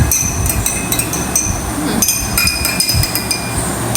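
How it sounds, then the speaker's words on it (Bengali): A metal spoon stirs lemon water in a drinking glass, giving rapid, repeated bright clinks and taps of metal on glass, close and fairly loud, with little pause between strikes. "এই যে চামচ দিয়ে গুলাই দিচ্ছি, যাতে লেবুটা সব জায়গায় ইয়ে হয়ে যায়, মিশে যায়।"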